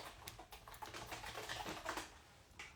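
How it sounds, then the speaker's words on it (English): Rapid, uneven clatter of keys on a computer keyboard, fast and forceful, close by with no talking. "Can you guys hear that typing?"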